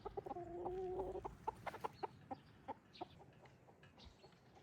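A hen in a backyard coop clucks in a short run of throaty calls, with a sustained tonal cackle at the start followed by scattered, spaced clucks nearby, and no talking.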